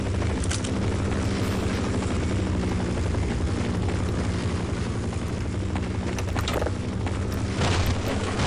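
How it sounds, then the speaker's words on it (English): A helicopter in the Half-Life video game roars loud and close with a thick rotor rumble, and sharp thuds of impacts and explosions burst in over the steady drone. "But with that chopper firing on us all the time"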